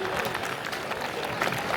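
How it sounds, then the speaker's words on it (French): A village festival crowd applauds a female singer after her performance, with steady clapping heard close and fairly loud throughout, mixed with some crowd noise. "Je vous demande d'applaudir encore très fort"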